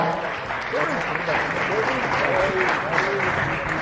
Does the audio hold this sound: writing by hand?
no